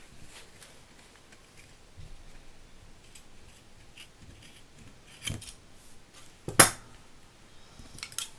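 Scissors snip through faux leather being trimmed for a handmade book cover, with a few quiet cuts early on and sharper, louder snips near the end, up close and without speech.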